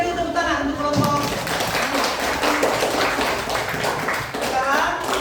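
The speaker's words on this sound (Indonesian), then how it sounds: "berikan dulu tepuk tangan untuk kelompok" Classroom children clap for a group, a dense patter of many small hands running throughout, mixed with an adult voice talking over it.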